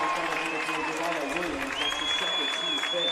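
At a high school boys basketball game, a gym crowd roars and applauds after a foul on a big play, a loud, dense, continuous wash of cheering with a commentator talking over it.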